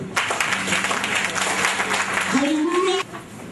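A church congregation applauds and cheers loudly for a few seconds during intercessory prayer, with a voice rising above it before the noise drops off.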